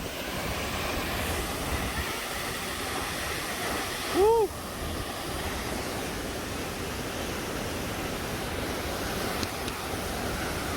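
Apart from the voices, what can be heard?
waterfall throwing water, Otways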